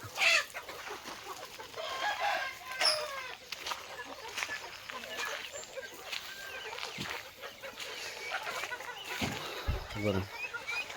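Native country chickens cluck and squawk nearby in a busy flock, with a rooster crowing amid the chatter and a person talking intermittently.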